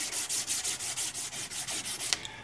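Fine-grit sandpaper rubbed back and forth over metal parts of a 1931 Japanese Type 14 Nambu pistol, a close, even rasping in about a dozen quick regular strokes.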